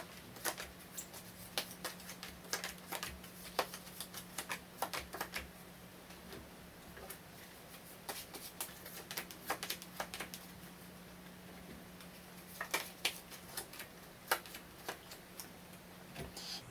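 Tarot cards are shuffled and drawn in quick, soft bursts of papery flicks and taps. The bursts come in scattered clusters over a faint, steady background hum.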